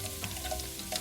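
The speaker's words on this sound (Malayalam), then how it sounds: "2 തണ്ട് കറിവേപ്പില, ഇത്രയും കറിവേപ്പില ഇട്ടാൽ മതി." Ginger and two sprigs of curry leaves frying in hot oil as a tempering for lemon rice, giving a steady, close crackling sizzle with small pops and no voices.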